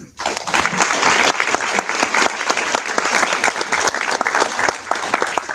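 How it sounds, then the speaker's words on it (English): An audience at a housing and economic development conference session on opportunity zones claps steadily for several seconds, a dense even round of applause in a hall, with a voice faintly audible beneath it. "let's just give them a round of applause"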